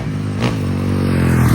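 A Honda CRF450R Works Edition motocross bike on a ride, its engine revving in one brief, loud, close burst with a harmonic drone and a bit of rattly mechanical noise.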